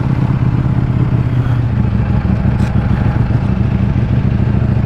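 A Ducati Panigale V4S motorcycle on a night ride roars loud and constant from the rider's position, a dense deep engine drone with wind rush and no pauses or talk.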